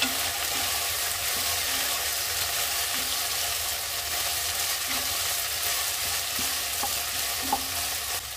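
Beef browning in a frying pan gives a steady, dense sizzle that fills the whole stretch, with faint occasional stirring clicks and no voices over it.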